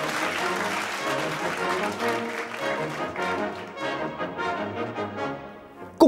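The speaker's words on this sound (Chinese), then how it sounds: "让我们把掌声送给老黄" Applause breaks out at a staged award ceremony as a winner is called up to collect a trophy, a continuous ripple of clapping with tonal music running underneath, ending abruptly.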